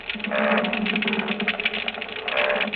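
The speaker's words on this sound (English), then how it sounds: "Now, here is a chorus of croakers." A dense underwater chorus of rapid croaking and drumming pulses, continuous and fairly loud, with many overlapping calls and a steady low hum beneath.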